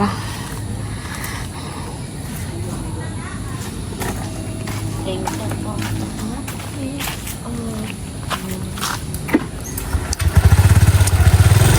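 A motorcycle engine idles and then revs up loudly near the end, with voices chatting and footsteps in the background.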